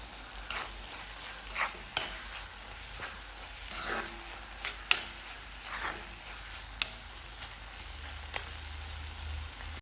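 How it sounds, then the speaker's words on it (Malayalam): A prawn and small onion roast with curry leaves is stirred in a pan, a soft continuous sizzle punctuated by irregular spatula scrapes and taps, fairly quiet and without talk. "കുറച്ച് കറിവേപ്പിലയും കൂടെ ചേർത്തിട്ട് ഇളക്കി കൊടുക്കാം"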